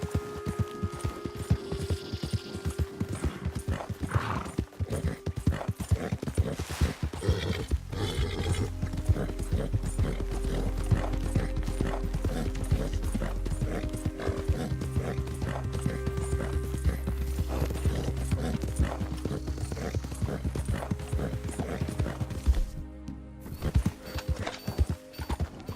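Horse hooves clip-clop steadily in the Red Dead Redemption 2 video game, with a neigh or whinny among the footfalls over a continuous low rumbling hum and game ambience.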